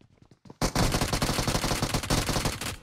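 Rapid automatic fire from a P90 in PUBG Mobile, a dense unbroken burst of close, loud shots that starts abruptly after a short quiet lead-in and runs to the end.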